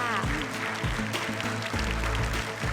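A studio audience on a Thai talk show claps to welcome a mother guest, brief sustained applause mixed with a loud, tonal musical backing that sits heavily underneath.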